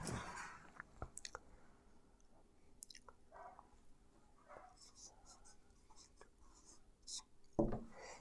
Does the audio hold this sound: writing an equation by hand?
yes